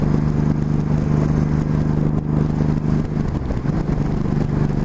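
A motorcycle engine drones steadily and close, with a loud sustained tone that briefly dips as if shifting gears, and wind noise throughout.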